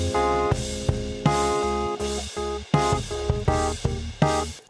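Music mix in a Swedish live mixing session with a low bass line under rhythmic band parts, steady and loud, with repeated punchy hits about every half second and no talking.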